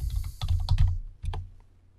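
Quick clusters of keystrokes clatter on a computer keyboard as a terminal command is typed on Ubuntu Linux, close up, with brief pauses between the bursts.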